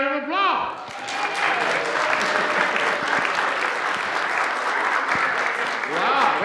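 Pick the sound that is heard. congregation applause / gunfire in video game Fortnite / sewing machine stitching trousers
congregation applause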